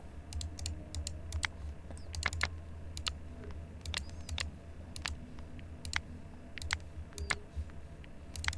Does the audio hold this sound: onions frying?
no